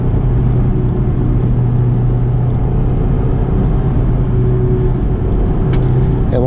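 A 2004 Honda S2000 sports car's engine drones steadily from inside the cabin, a constant low rumble with road noise throughout, briefly shifting pitch near the end.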